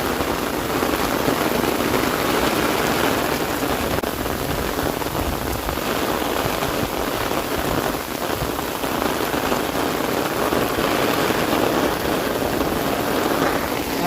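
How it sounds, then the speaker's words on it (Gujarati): Heavy monsoon rain pours down steadily in Banaskantha, a dense, continuous roar of drops drumming on surfaces that stays loud and unbroken throughout, with no voices. "અવાજ કેટલો આવે છે કે ફૂલ વરસાદ એ ધોધ કેટલા પડે જુઓ."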